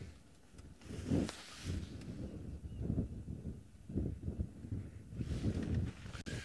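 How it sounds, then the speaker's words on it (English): Wind on a cool morning safari gusts in uneven, rumbling bursts against the microphone, with soft rustling and a faint hiss between gusts, fairly quiet overall and with no voices. "Very cool, windy morning."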